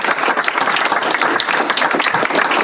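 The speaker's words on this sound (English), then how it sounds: "You can applaud again." Loud, dense applause from an audience at a school board meeting welcoming new staff, continuous and close with a few sharper individual claps standing out.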